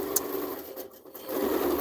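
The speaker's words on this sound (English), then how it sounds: "So the Gallant and the Gallant XL are both long arm machines." Baby Lock Gallant XL long arm quilting machine stitching a small quilt, a steady close mechanical whir that briefly dips mid-run before resuming.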